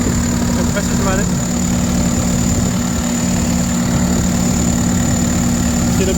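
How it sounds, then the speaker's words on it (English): A Case 850M dozer idling with its air conditioning compressor running, giving a loud, steady engine drone with a constant hum throughout and no breaks. "Okay, it's running. Back over here. The compressor's running."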